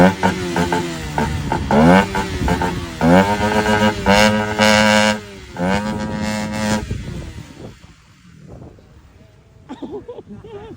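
A motorcycle with a stock exhaust pipe revs hard in repeated rising bursts over the first seven seconds, then drops to a rougher, quieter idle, with people talking nearby throughout.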